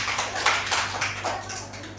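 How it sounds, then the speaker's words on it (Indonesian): Scattered classroom clapping for a student group finishing their presentation in an elementary science lesson, a brief burst of hand claps from children at moderate distance, fading over about two seconds. "tepuk tangan dulu untuk kelompok 2"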